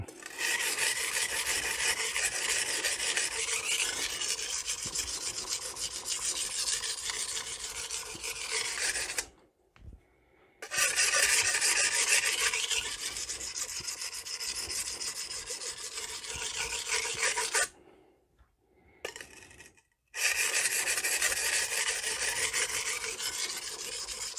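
An 8-inch Magnacut chef's knife is ground on a coarse Norton Crystolon stone, giving a loud, steady rasping scrape in long continuous strokes, broken by two brief pauses.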